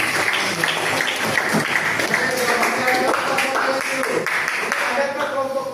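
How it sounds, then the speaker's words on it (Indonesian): A classroom group claps for a student presentation at a university teaching session, steady dense applause throughout with voices chattering underneath. "tepuk tangan dulu untuk prosesnya"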